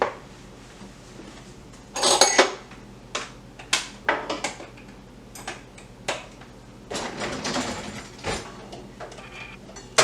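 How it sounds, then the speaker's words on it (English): A whisk works dry cake batter ingredients for a sweet potato cake in a bowl, giving irregular metallic clinks and taps against the sides, close and crisp, with no talking. "Now we're going to whisk this all together"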